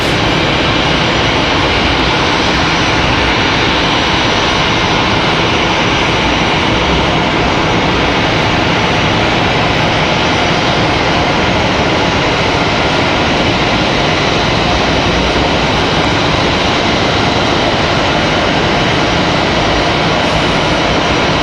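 An American Airlines jet at Raleigh-Durham International Airport: a constant, loud, broadband engine roar fills the whole stretch without pause, close and steady, with no voices.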